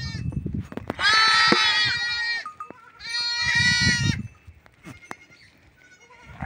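Young goats on a farm bleat with hunger in two long, loud, wavering cries about a second and a half each, with brief rustling and a faint voice between them.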